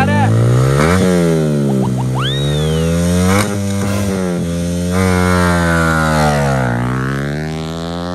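Motorcycle engine at full throttle during a drag-style race launch, high revs rising and falling in loud sustained waves, with shouting voices over it.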